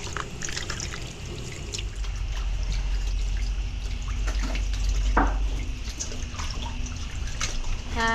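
Water runs from a tap in a steady, moderately faint stream with trickles and drips, a few soft background knocks and sounds mixed in.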